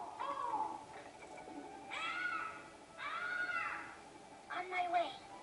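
Bentley's bird call imitation from the video game Sly 3, a voice mimicking birdsong in three or four warbling, sweeping bursts with gaps between, over a low game background.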